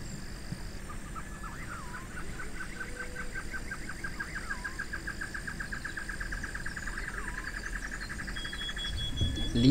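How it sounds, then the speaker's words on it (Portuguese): A barred antshrike sings a long accelerating series of rapid notes, fairly faint, over a steady background hum in an outdoor Brazilian setting. "E aí um canta aí, creio que seja uma choca barrada o nome desse pássaro."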